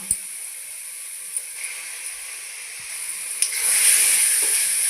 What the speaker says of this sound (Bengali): মশলার সঙ্গে একসঙ্গে ভেজে নেব।